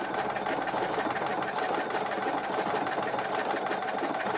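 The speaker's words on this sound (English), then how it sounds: "see it sewing sideways" A sewing machine stitches fabric sideways in a steady, continuous mechanical whir with a fast, even chatter from the needle, close and loud and running without a pause.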